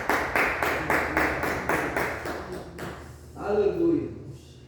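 A church congregation during a sermon claps together in a steady, even rhythm for about three seconds, then the clapping stops and a voice speaks.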